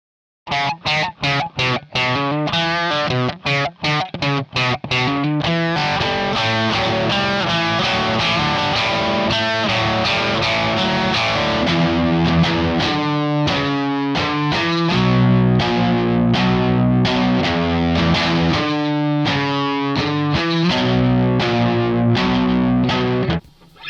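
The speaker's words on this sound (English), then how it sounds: "I immediately think this sounds more like a Kemper to me." Distorted electric guitar through a Kemper amp profiler plays a continuous riff with chugging chords and sustained high notes, loud and close, with a heavy amp-like crunch throughout.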